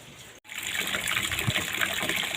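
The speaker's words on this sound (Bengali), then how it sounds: "আবারও জল দিয়ে দিচ্ছি, আরও 2 কাপ দিয়ে গেলে কাপড় ভালোভাবে ধোয়া হয়ে যাবে।" Water gushes and splashes steadily, poured to wash clothes outdoors, loud and close after a brief silent break at the start.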